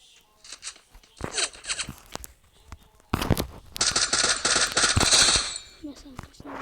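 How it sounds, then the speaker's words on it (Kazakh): Automatic rifle fire in the mobile battle-royale game Free Fire: scattered single shots, then a loud, sustained rattling burst in the middle, with a few quieter shots trailing off near the end. "Және 2 адамның атыс атқанды көріп тұрмын қазір."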